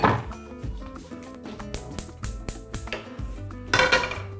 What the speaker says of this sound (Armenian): Մեծ տապակ ենք գործի դնում։